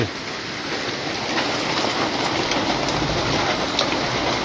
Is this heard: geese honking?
no